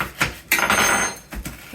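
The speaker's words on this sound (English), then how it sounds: "we're going to mash it up with our spoon" A spoon mashing an Oreo cookie inside a bag: a few dull knocks, then a crinkly, crunching burst of plastic and crumbling cookie, ending with another soft knock.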